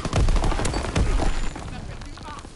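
Rapid gunfire in a first-person shooter game, a dense burst of sharp shots in quick succession up front that thins out into lighter background game noise.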